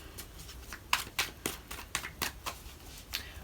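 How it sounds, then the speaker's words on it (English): A deck of tarot cards being shuffled by hand, a quick series of crisp riffling flutters and soft slaps, close and fairly clear with no talk over it. "I did pre-shuffle, so one more shuffle and you're good to go,"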